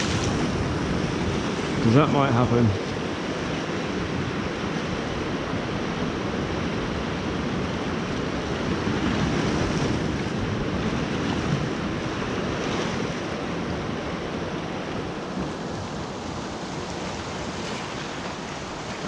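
Ocean swell washing steadily onto the shore during a March bass-fishing outing, a continuous loud rush of surf mixed with wind buffeting the microphone, with a voice briefly heard near the start.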